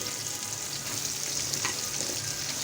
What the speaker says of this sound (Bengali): কাঁকরুল ভাজি করতেছি।